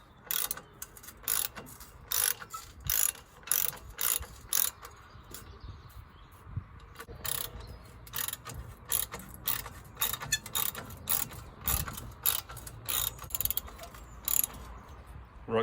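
Ratcheting on an exhaust tip bolt of a Mk2 Ford Focus ST, a quick run of sharp, close clicks in repeated bursts, fairly quiet, with no talking.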